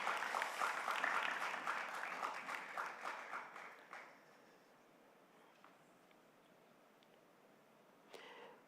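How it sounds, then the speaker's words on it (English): Audience applause at a growth and resilience dialogue event, a dense burst of clapping that fades out after about four seconds, leaving quiet room tone and a brief late rustle. "Let's give them a round of applause."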